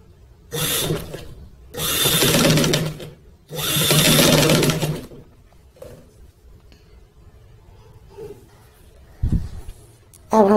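A sewing machine stitches a 2-inch fabric placket strip for a boy's kameez, running in three loud whirring bursts of a second or more each, then quieter handling sounds and a few soft clicks.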